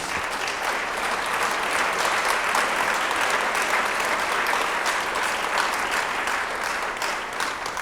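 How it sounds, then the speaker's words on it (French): Audience applause after a talk on business leadership, a dense, steady wash of clapping from a large crowd sustained throughout without pause. "On peut l'applaudir."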